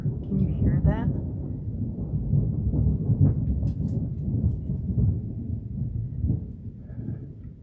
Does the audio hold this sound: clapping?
no